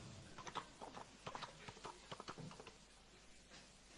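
Horse hooves clip-clop in an uneven trotting rhythm, a series of sharp, close knocks that fade toward the end, heard alone without speech.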